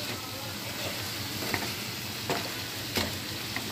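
Bitter gourd and sweet potato fry in a pan with a steady, dense sizzle throughout, with faint stirring clicks over it and no talk.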